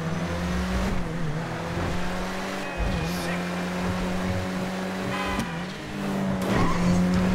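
A 2013 Nissan GT-R, the Elegy RH8 in GTA 5 Online, idles and revs with a steady low engine drone, rising sharply in several bursts with brief tire squeals.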